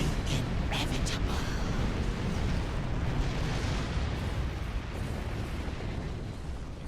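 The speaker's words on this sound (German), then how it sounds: "Die Explosion von dem Ding hat hier irgendwelche Shuttles mitgerissen." A large explosion in the space video game Star Trek Online, a sustained roaring rumble with sharp cracks at the start that slowly thins out, loud and continuous throughout.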